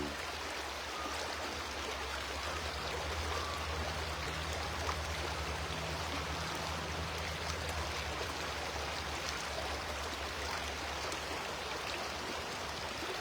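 A river flows in a steady, soft wash of water, continuous and fairly quiet with a faint low hum beneath, heard alone without voices.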